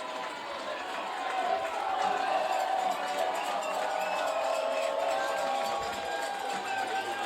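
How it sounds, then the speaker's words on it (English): A crowd at a 2019 high school football playoff game, Tampa Bay Tech at Lakeland, cheers and shouts steadily from a distance, a continuous roar of many voices with a faint announcer voice woven in. "Crowd getting into this one a little bit after all the penalties called against the Knots."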